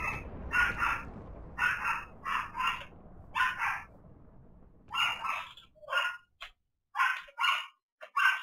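A pet dog barks over and over in loud, sharp bursts, sometimes in pairs and sometimes singly, close by in a room with only a faint hum between the barks.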